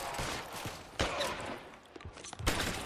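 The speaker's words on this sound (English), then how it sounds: "who's shooting at me?" Gunfire in the crime game L.A. Noire rings out as several sharp shots spread irregularly across a few seconds, fairly faint and set against a quiet background.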